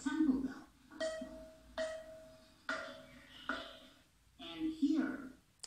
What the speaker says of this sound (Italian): Questo invece è il suono di una campana.